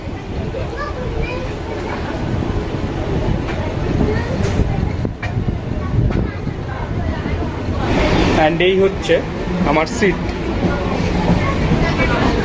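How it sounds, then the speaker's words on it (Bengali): A local train rolls along just after pulling out of Jaleswar station, a steady rumbling carriage noise with faint rail clatter, heard from inside among passengers while someone talks over it. "জলেশ্বর স্টেশন থেকে আমাদের ট্রেন কিন্তু ছেড়ে দিয়েছে"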